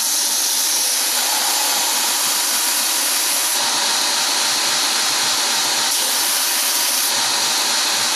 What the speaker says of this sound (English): we got our 60 grit belt, our little fixture, and we're gonna go shorten some screws